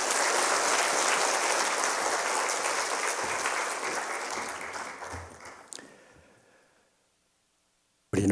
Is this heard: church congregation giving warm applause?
yes